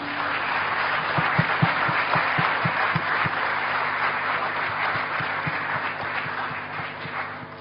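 Audience at a business chamber event applauds with a steady wash of many hands, some sharper individual claps punching through near the start, gradually thinning and fading toward the end.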